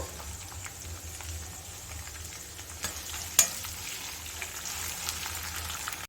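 Onions fry in a kadai with a soft, continuous sizzle and faint stirring sounds, fairly quiet and steady. One sharper click stands out midway, with no voices.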